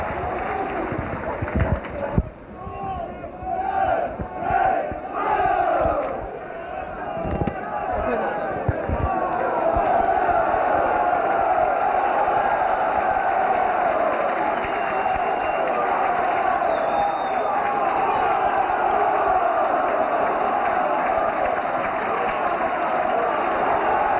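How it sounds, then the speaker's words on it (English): Football crowd at Carlisle United versus Burnley cheering as a Mexican wave passes, a broad swelling roar that builds and holds steady after some scattered thuds and claps, with a commentator talking over it. "In the Mexican wave, which is nice to see the crowd participating again."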